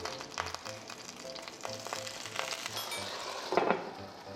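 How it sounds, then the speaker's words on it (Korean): Steady crackling sizzle of oil in a hot pan frying gyoza, with a louder burst of spattering near the end. "이제 기름 튀기 시작해."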